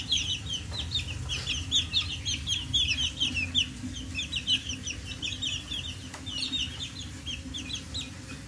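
Young one-month-old chicks, a cross of McLean and grey hatch birds, peep and cluck continuously close by, producing a busy chorus of short high chirps with no talking.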